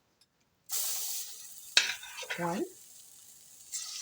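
Food hits hot olive oil and sizzles in a pan, a bright hiss starting abruptly and settling, with a sharp utensil clink and a short voice in the middle.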